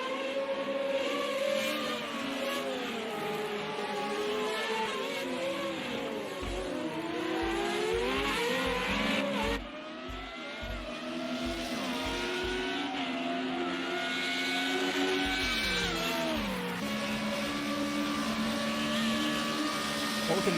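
FR35 open-wheel race cars racing on the Long Beach street circuit, heard onboard as a loud, continuous engine howl that sweeps up and down through repeated gear changes and braking, with rapid shift blips and a brief dip in the middle.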